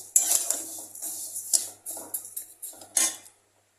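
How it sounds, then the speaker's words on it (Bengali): Metal utensil scraping and clinking as rice is stirred in a pan for vegetable khichuri, a series of short scratchy strokes with brief pauses, close up and fairly quiet. "কন্টিনিউ এটাকে একটু নাড়তে থাকবো যাতে এটা তলায় লেগে না যায়।"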